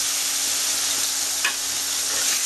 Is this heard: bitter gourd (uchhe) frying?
yes